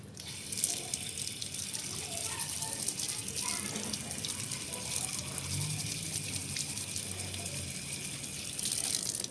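Running water splashes steadily over a rubber pedal cover from a Suzuki minivan while it is rinsed clean of overspray paint, a continuous close hiss with small clatters and faint background talk.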